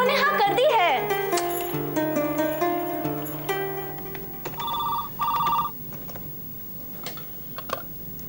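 A telephone rings in a household scene, trilling bursts with a repeated ringtone tone near the middle, with background music and speaking voices around it and some light tapping.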